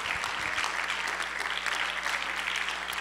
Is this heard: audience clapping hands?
yes